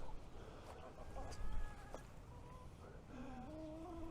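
Quiet clucking chickens nearby, soft intermittent calls over a low outdoor background rumble.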